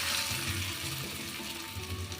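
Hot tempering of oil, mustard seeds and fried curry leaves is poured into chutney, giving a brief close, steady hissing sizzle.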